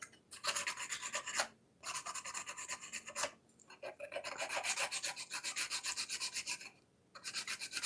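Sandpaper of 400 grit rasps back and forth over a Kyosho RC motorcycle body in steady close strokes, broken by two or three short pauses.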